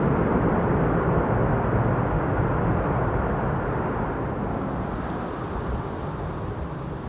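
A landing airliner at Schiphol's Kaagbaan runway roars steadily with thrust reversers, a broad loud rumble that slowly eases as the jet decelerates, with wind buffeting the microphone.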